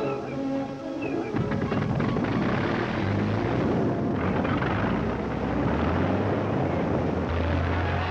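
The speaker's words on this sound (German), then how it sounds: "Jäger starten." WWII fighter aircraft taking off, a dense, continuous engine and propeller roar filling the whole stretch at steady loudness, rough and noisy as in archival recordings.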